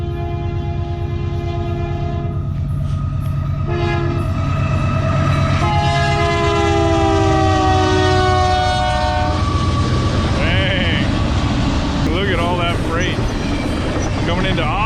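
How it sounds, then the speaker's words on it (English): A train passes near the Great Salt Lake in northern Utah, its loud horn sounding long sustained blasts over a heavy, continuous rumble of rolling cars close by. "and here comes a train."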